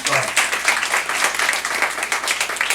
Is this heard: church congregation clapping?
yes